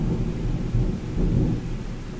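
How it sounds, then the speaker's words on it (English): Thunder rolls outside, a loud, deep rumble swelling and fading in two broad surges over a couple of seconds, heard alone without voices. "I don't know if you just heard, but there was thunder outside."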